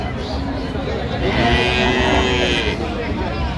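At a cattle market in Aftabganj, cows and calves moo in a long, loud low call that swells in the middle, over a background of crowd chatter and voices.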